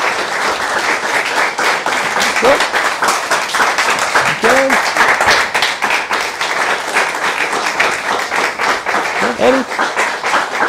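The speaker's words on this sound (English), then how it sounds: "you guys get to start cheering and clapping" An audience claps and cheers at a monthly promotion event, with steady applause throughout, scattered whoops rising above it, and voices mixed into the crowd noise.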